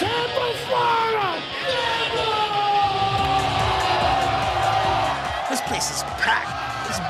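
A packed wrestling arena crowd yells, whoops and cheers loudly and continuously, a dense roar of many voices with a high rising shout near the end.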